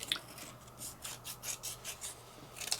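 Scissors cutting paper up the middle for a Christmas craft: soft, rasping snips repeated in an even rhythm, close and fairly quiet, with a couple of small clicks.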